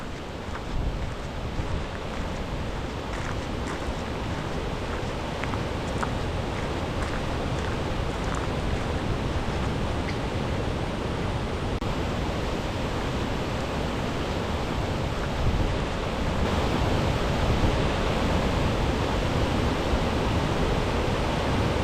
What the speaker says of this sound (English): typical Northern Rocky Mountain waterfall